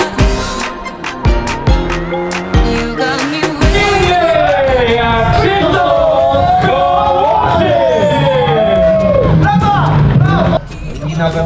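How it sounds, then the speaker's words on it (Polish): Charity concert auction crowd erupts in loud sustained cheering, whoops and yelling, with sharp claps and shouts at the start building into continuous roaring noise. "Wielkie brawa!"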